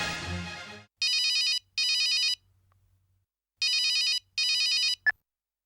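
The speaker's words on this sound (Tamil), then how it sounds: "இளவரசி, நீ யாருக்கு ஃபோன் பண்ற?" Telephone ringback heard as a call is placed, four loud electronic ring bursts in two pairs separated by a pause, following a brief noise at the start and ending with a click.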